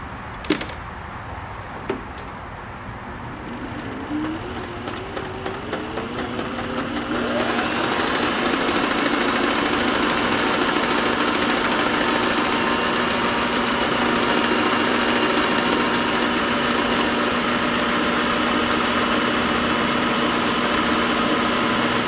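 A Singer 503A sewing machine stitching in a garage. A few starts and clicks come first, then the motor spins up into a loud, steady, continuous whir with rapid needle chatter that runs to the end.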